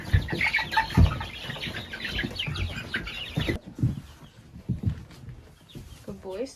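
Chickens cluck and squawk in a homestead chicken run, several close irregular bird calls mixed with a person talking, then quieter ambient sound with scattered clucks.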